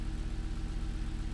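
A car engine in GTA 5 roleplay idles with a steady low rumble, quiet and continuous, with no one talking over it.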